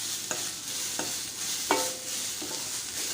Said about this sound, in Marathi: उकडलेले आलू टाकायचे छान मिक्स करून घ्यायचं